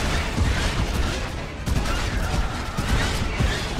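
Cannon fire during a Star Wars: The Old Republic battle: a steady barrage of booming shots and dense explosive crashes with no clear pauses, loud throughout the whole stretch.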